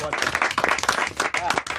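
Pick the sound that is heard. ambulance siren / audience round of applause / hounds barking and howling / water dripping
audience round of applause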